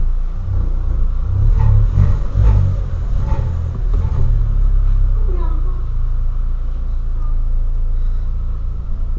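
A 2008 VW Polo sedan with a 1.6 engine and sport exhaust rumbles deeply and steadily, swelling louder early on then settling to a constant drone while people talk over it.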